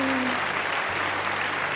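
Steady, dense audience applause after introductions of a theater production crew for a sold-out Frozen show, continuous throughout with a faint voice underneath near the start.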